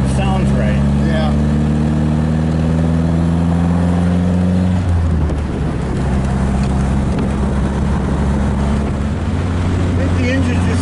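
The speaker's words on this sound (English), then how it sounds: "I think the engine's just getting a little tired" A tired aircraft engine runs steadily during tuning, its pitch rising and shifting as it revs, then settles into a rougher idle; faint voices can be heard under it.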